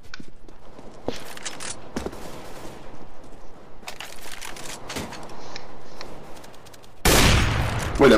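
Gunfire from a first-person shooter video game comes as scattered sharp shots and clicks with quieter stretches between them. A louder burst of shots crackles near the end.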